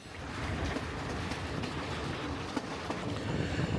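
Train running on Sri Lanka's upcountry railway, a steady broadband rumble of wheels and carriage noise with faint rhythmic clacks, continuous and fairly close throughout.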